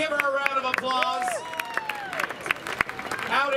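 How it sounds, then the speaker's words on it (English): Audience applause for a local waitress introduced on stage during a live comedy set, crowd clapping and babble mixed with whistles and cheers, moderately loud and sustained. "Give her a round of applause."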